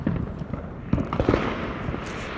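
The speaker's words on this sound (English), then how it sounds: "Oh my god, a firework!" Fourth of July fireworks go off outdoors, a string of sharp pops and crackles with a couple of louder bangs around the middle, fairly close and without talk.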